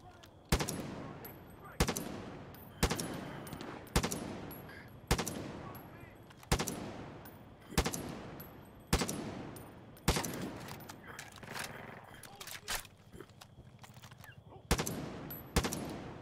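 Far Cry 5 video game gunfire: a dozen sharp, loud shots at uneven gaps of about one to two seconds, each with a short decaying tail, over a low game background.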